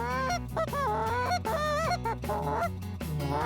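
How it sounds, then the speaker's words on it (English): A short reed goose call blown in a run of loud, close honks and clucks, sharp rising and falling notes repeated in quick bursts with no talk. "It's a real good sounding short reed goose call"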